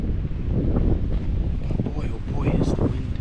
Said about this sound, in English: But oh boy, is the wind, like, it's really gusting up here.